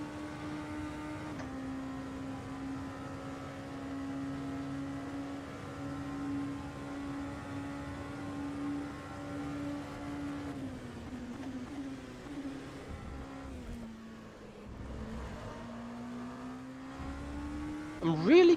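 A race car engine drones in rFactor 2 during a 24h of Le Mans practice session, holding a steady high-revving tone, then dropping through downshifts and climbing again, with a brief squeal at the end.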